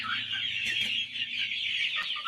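Broiler chickens on a poultry farm cluck steadily in a dense flock murmur, a continuous close chorus with no talk over it.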